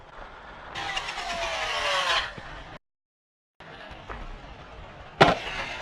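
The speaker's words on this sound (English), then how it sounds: "That's absolute full throttle now" An Arrma Typhon V4 RC car is pushed to full throttle toward a ramp, its electric motor rising in a loud, climbing whine that drops out briefly, then returns with a sharp impact near the end.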